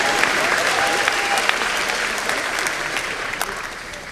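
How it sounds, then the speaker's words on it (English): Commencement crowd applauding graduates in a hall, a dense continuous wash of many hands at moderate level, with a voice faintly underneath. "Applaud anytime."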